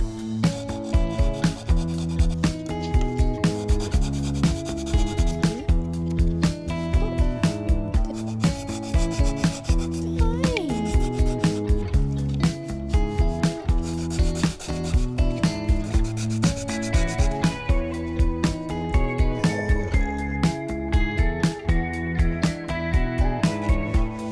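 Rhythmic back-and-forth sanding on wooden cabinet panels, a long run of even rasping strokes repeating at a steady pace, close and fairly loud.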